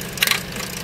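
A Maruti Suzuki Swift engine starts with a knocking tk-tk fault, giving a brief cluster of sharp ticking knocks over a low running engine rumble.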